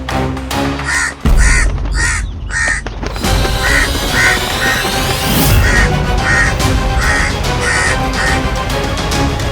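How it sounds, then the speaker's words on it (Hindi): Crows caw loudly and repeatedly in a rhythmic series of harsh calls, layered over dense background sound and music. "कौवा"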